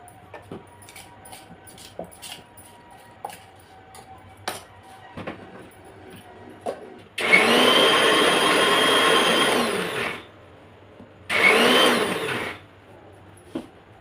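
A kitchen mixer grinder whirs loudly while grinding curry paste, first in a sustained run of about three seconds and then in a shorter second burst. Quiet clinks and taps come before it.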